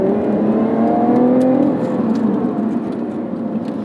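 A 2020 Lotus Evora GT's supercharged V6 revs close by, a steady loud engine drone with a rising whine layered on top that eases slightly toward the end.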